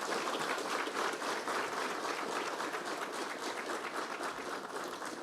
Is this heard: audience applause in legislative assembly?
yes